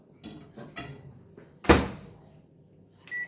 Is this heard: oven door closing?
yes